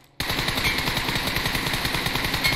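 Rapid automatic gunfire in PUBG Mobile bursts in after a brief silence and continues as a dense, loud, rhythmic stream of shots to the end, with no talk over it.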